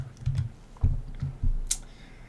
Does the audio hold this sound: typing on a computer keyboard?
yes